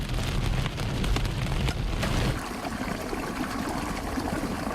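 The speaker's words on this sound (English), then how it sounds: "Besides the heavy rain, you can hear light hail smacking into the car." Heavy rain drums hard on a car near Crookston during a Sunday afternoon storm, with light hail ticking against it in sharp little clicks. The roar is dense and steady and eases slightly partway through.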